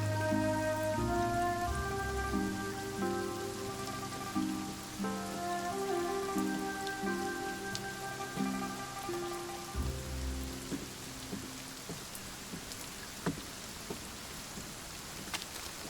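Steady rain falling on surfaces, a soft continuous patter under gentle, melodic background music that fades away after about ten seconds, leaving the rain alone; no talking.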